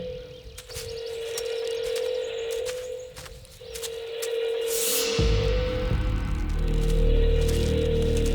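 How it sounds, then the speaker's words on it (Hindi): A telephone rings somewhere in a forest, a steady electronic tone with repeated ringing pulses, moderately loud, alongside rustling and a rising whoosh before a deep rumble sets in. "कहीं से फोन की आवाज आ रही है।"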